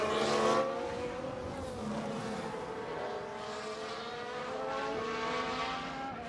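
Formula 1 cars racing in the F1 Manager 2022 replay: a steady engine drone with rising and falling whines as cars pass, moderately loud and continuous with no talk.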